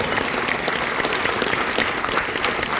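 Audience applause and cheering for Oliver at a live Jay and Silent Bob podcast show in Wilmington, Delaware, a dense, steady clapping crowd filling the room throughout.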